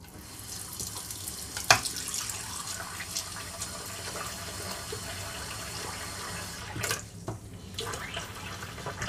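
Water runs from a tap into a bowl, a continuous soft gushing stream with a sharp clink early on and a brief shift in flow near the end.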